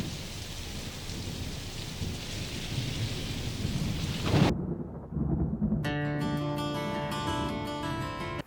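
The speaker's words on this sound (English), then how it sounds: "Both of these songs start out with just like a thunder crack, outside" A thunder crack and steady pouring rain open a song recording. The storm rumbles under dense rain, cuts off briefly, then gives way to sustained musical tones.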